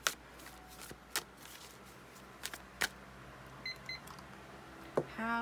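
Tarot cards shuffled by hand at close range, a series of sharp, soft riffling bursts spaced irregularly across a quiet room, with a few faint electronic beeps near the end.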